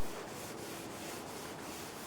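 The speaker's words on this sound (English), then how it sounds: "I use linseed oil to oil the paddle, and I sand lightly with a" Light sanding of an oiled wooden Greenland paddle with 280-grit sandpaper: a soft, continuous scratchy rubbing with faint regular strokes, very quiet and close.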